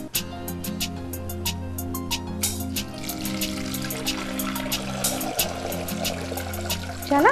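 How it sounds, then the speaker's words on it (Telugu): Water poured into a pressure cooker holding green mangoes, a steady splashing trickle that runs unbroken for several seconds over a low, constant kitchen hum, with no talking. "దీంట్లో కొన్ని దీనికి సరిపడా వాటర్ పోసుకుందాం."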